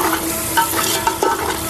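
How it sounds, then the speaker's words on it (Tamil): Yogurt is stirred into a country-chicken biryani masala in a pan over low heat: a brief run of spoon scrapes and soft, wet stirring over a steady, close sizzle. "நல்லா போட்டு நல்லா மிக்ஸ் பண்ணினே இருங்க. அடி பிடிக்க விடாதீங்க."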